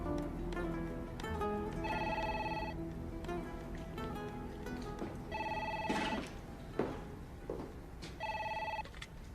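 Telephone ringing in repeated electronic bursts, three or four rings spaced a few seconds apart, clear and fairly close over a faint indoor background.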